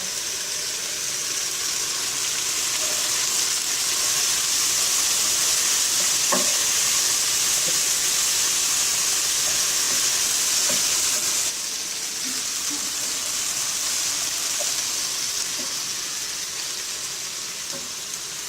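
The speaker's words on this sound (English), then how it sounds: "Goya seasoning, and I'm going to put it inside the pan. And I'll stir it up" Goya seasoning is stirred around a hot frying pan in Cameroonian home cooking, under a steady loud sizzle that holds throughout, with occasional faint scrapes and taps of the utensil.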